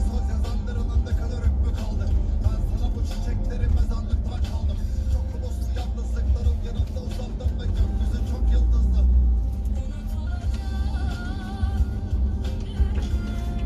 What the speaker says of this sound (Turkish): Arabayla gezelim.